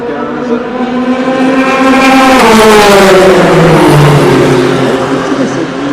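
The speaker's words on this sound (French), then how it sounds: "Grand Tourisme Aston Martin numéro 95." An Aston Martin GT race car, number 95, passes during the start of the 2015 24 Hours of Le Mans. Its loud engine note rises to a peak, then drops in pitch as it sweeps by, with a commentator talking underneath.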